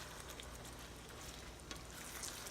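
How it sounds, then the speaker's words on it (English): Shrimp étouffée bubbles in a pot at a low simmer, giving a faint, continuous crackling hiss with occasional small pops and no voices. "as you can see, it's simmering and boiling pretty good"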